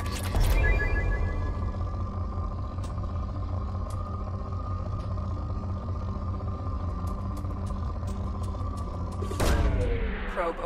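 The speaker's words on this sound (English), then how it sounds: "Launching probe." A probe launches in Mass Effect Legendary Edition: a loud, dense rumbling blast that holds steady for several seconds, then ends in a sharp burst of noise.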